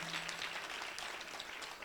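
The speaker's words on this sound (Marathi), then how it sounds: "तुमच्या सहित जोरात एकदा टाळ्या वाजवायच्या आहेत" Steady applause from a kirtan audience, a continuous broadband patter of many hands clapping that holds at an even level for about two seconds, with no voices over it.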